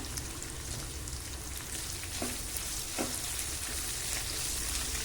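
Ginger, onion and green chillies sizzling in hot oil in a pan for rice rava uppittu, a continuous close crackling fry with a couple of faint clinks of stirring. No voices.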